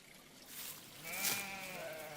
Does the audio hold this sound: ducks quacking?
no